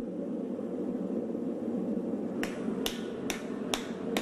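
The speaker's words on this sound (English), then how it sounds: "In a ballet of heating, hammering, and reheating, he adds the steel bit." A blacksmith forges a steel bit onto an axe head, sounding as five sharp, evenly spaced metallic hammer strikes over a steady roar from the forge fire.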